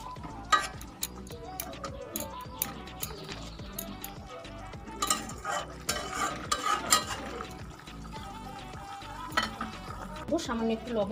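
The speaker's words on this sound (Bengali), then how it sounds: "এবার মাছটা দিয়েও ভালোভাবে কিন্তু ঝোলটা ফুটে দিতে হবে" A tilapia fish curry cooks in a pan with green chilli leaves, giving a soft, low sizzle and bubbling under repeated spoon taps and scrapes against the pan. Several sharper clatters stand out.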